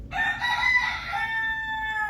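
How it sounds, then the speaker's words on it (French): A rooster crows once, clear and fairly close, its drawn-out call rising and then holding a long tapering note across a couple of seconds with no speech. "Vous entendez le coq?"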